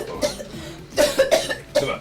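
A woman coughs in several short, harsh bursts close by, with brief pauses between the coughs.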